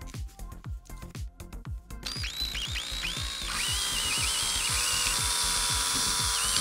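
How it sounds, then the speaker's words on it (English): A power drill bores through plastic bottle caps with a drill bit sized to match drinking straws. Rapid rhythmic whirring pulses start the run, then the motor settles into a steady, close, continuous whine. "with a drill bit the same size as the straws to make the holes through the bottle caps"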